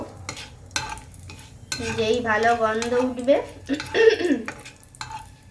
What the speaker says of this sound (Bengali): এবার একটা খুন্তির সাহায্যে ভালো করে এটা নাড়িয়ে চাড়িয়ে নেব।